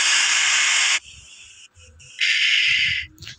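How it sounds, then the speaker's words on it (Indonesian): A hair dryer blows loudly for a second, stops, then returns briefly in a second burst before cutting out, with faint rustling between. "kalau misalnya kita klik suara hair dryernya itu akan play sendiri dia."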